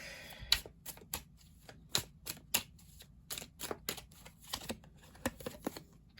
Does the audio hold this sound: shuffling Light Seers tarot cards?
yes